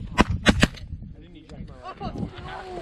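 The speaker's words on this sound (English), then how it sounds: "They shot down there." Shotgun blasts ring out during a mallard duck hunt in a snowstorm, with three quick loud shots followed by excited voices and duck calls in the open air.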